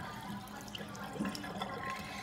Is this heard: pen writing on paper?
no